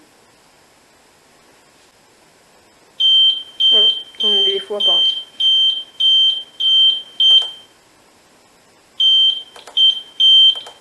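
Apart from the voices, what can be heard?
fire alarm panel sounder beeping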